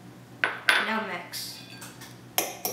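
Cookie dough being mixed with egg and vanilla in a bowl, with a spoon knocking and scraping against the bowl in a few sharp clinks separated by softer smearing strokes, close and fairly loud.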